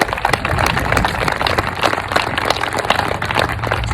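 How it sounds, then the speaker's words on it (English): Audience applauding at a ribbon cutting ceremony, a dense steady round of clapping that holds for several seconds without a break. "give a round of applause for my wife, Kristen."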